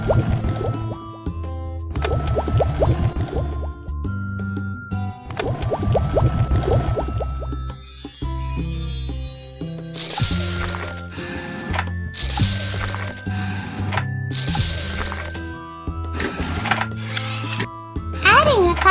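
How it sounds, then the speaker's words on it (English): A cartoon ice cream factory machine mixes heavy cream and condensed milk, giving a rhythmic mechanical whirring and ratcheting with tonal synthetic hums, loud and steady, then choppy bursts of churning noise. "Turn on the machine and mix heavy cream and condensed milk."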